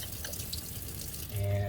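Tap water running over tumbled jasper rocks, a soft steady trickle and drip that swells louder near the end, with a low hum underneath.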